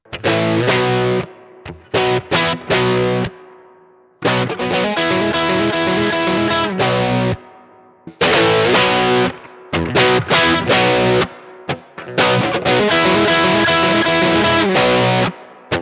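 Electric guitar through a three-knob overdrive pedal, overdriven and distorted, playing chords and riffs in loud bursts, with brief pauses between phrases.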